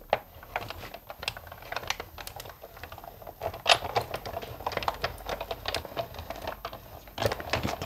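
A craft punch stamping through paper, producing a run of sharp, close clicks and snaps at an irregular pace, with a soft rustle of paper between them and no voices.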